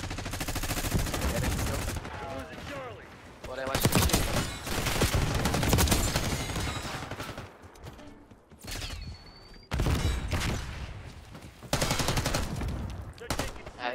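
Call of Duty: Black Ops 6 gunfire comes in loud, dense automatic bursts separated by brief lulls, with mechanical clatter and other game effects between the volleys.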